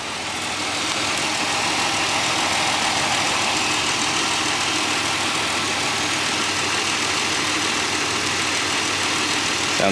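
A 2008 Pontiac Grand Prix engine idles steadily just after an oil change, a continuous smooth hum with hiss, heard close up and unbroken for the whole stretch with no talking.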